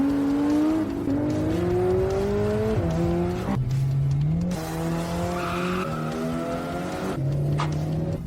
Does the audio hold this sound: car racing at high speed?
yes